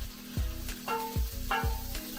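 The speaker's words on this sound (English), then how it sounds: "saute my onions and peppers, get them cooking." Onions and peppers sauté in butter in a pan, a soft sizzle under a few rhythmic scraping strokes of a utensil stirring, close and fairly quiet, with no voice.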